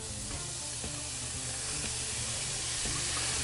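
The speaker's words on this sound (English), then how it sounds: "Now we're going to saute those off and remove the rest of the moisture." Steady sizzle of food sautéing dry in a warmed cast iron skillet over a low flame on an outdoor grill, a continuous close hiss with a few faint scrapes and no talking.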